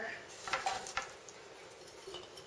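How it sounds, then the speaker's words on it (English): Cut carrot sticks packed into a glass canning jar, with faint clinks and taps of glass and vegetable knocking together, soft and close, a few clustered knocks in the first second. "I'm going to just keep packing them into the jar."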